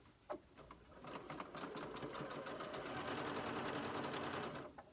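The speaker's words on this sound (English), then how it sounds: "grab the first block in the 3rd column and start sewing this." A sewing machine stitches quilt blocks with a rapid, steady mechanical chatter that starts after a few clicks and runs continuously for several seconds before easing off, close and clear with no talk.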